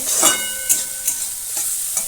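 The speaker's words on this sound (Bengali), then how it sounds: "এটাকে দিয়েও এক দু মিনিট ভেজে নেব টমেটোটা গলে যাওয়া পর্যন্ত" Green chili and chopped tomato fry in a pan for a vegetarian dal, with a steady sizzle broken by four sharp stirring scrapes heard up close.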